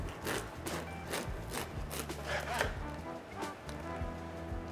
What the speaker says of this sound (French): Donc on va couper des tranches de pain.